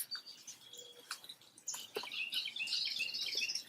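Birds chirp and tweet in quiet surroundings, with scattered high calls growing busier and denser over a few seconds, fairly faint and with no talk.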